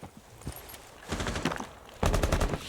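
Gunfire in Rainbow Six Siege during an esports match: a single shot, then a rapid automatic burst, then a louder, closer burst of fire near the end.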